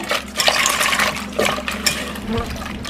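Dried fish being washed by hand in water to rinse off sand and grit, giving a continuous close splashing and swishing of water with steady sloshing throughout.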